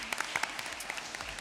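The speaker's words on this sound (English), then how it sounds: "So let's give them a hand of applause" A conference audience applauds panelists in a short burst of many hands clapping in a hall, dense and moderately loud.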